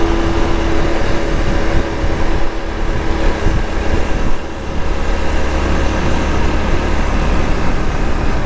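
A Honda CT125 Trail Cub motorcycle rides steadily with a constant loud engine drone, a slight dip in the middle where the rider shifts gears, and wind and road noise mixed in throughout.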